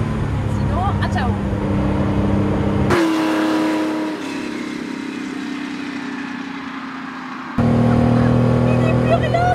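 A Porsche engine drones and revs while driving, a loud steady roar that shifts pitch with gear changes, with brief quieter stretches between.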